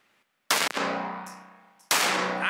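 Two loud pistol shots fired at a target on a shooting range, each an abrupt sharp crack with a long ringing decay, close and without talk.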